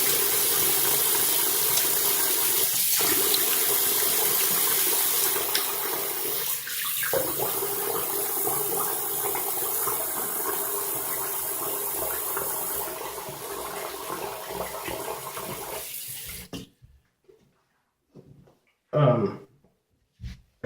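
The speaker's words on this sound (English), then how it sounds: "Let me rinse off real quick." Water pours steadily from a faucet as someone rinses off after a shave, a loud continuous hiss that stops abruptly near the end, followed by a few faint bumps and brief murmured speech.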